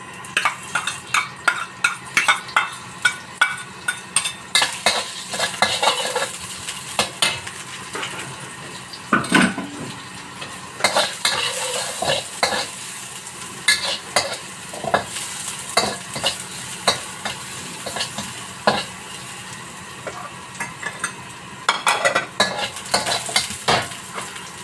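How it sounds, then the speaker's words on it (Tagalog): Garlic and onion sautéing in a pan for fried noodles with sambal, a continuous sizzle broken by frequent sharp clanks and scrapes of a utensil stirring against the pan, close and loud, without speech. "Gisa na tayo. Gisa natin. Ayan. Ayan, bawang sibuyas."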